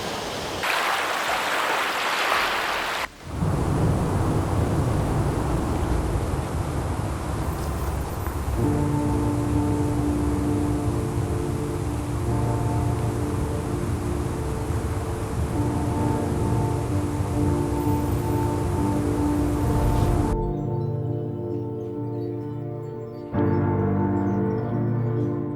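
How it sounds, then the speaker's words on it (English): Rapids on a jungle river in Khao Sok, Thailand, give a loud, steady broadband rush of churning water that runs almost unbroken and close by, dropping briefly near the end, with no voices. "And we arrived to our final destination, some rapids."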